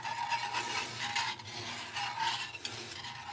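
Wire whisk stirring and scraping through thick stew gravy in a pot, breaking up clumps, a steady soft rhythmic rasp close by with no talking.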